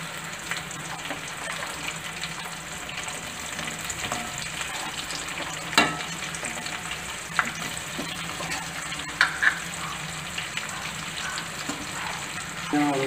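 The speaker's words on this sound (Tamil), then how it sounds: "மிளகாய் வெள்ளைப்பூண்டு எல்லாம் பொரிச்சதுக்கப்புறம் நம்ம வெங்காயத்தை ஆட் பண்ணுறோம்" Onions go into hot oil after chili and garlic have fried, in a pan for a Tamil dried anchovy curry, giving a steady close sizzle and crackle with a few sharp clinks of a stirring spoon and no speech.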